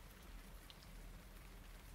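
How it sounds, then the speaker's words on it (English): Steady, dense rain falls throughout, a continuous hiss of drops on surfaces with no voices over it. "And now it's raining"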